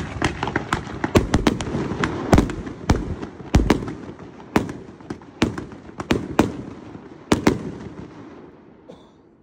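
China Sky 40-shot fireworks cake at a demo, firing a rapid rhythmic string of sharp pops and booms that thin out toward the end, loud and fairly close.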